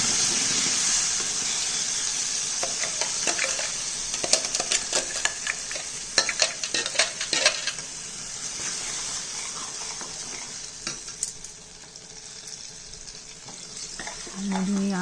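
A spoon stirs mashed banana in a pan while cooking barfi, with soft scraping strokes and clatters against a steady sizzling hiss throughout.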